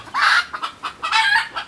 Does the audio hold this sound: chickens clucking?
yes